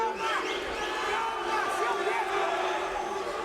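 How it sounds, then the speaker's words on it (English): A UFC fight crowd murmurs and calls out in a broad, restless arena hubbub, with scattered shouts rising over a continuous distant din and a commentator talking over it. "Crowd a little restless."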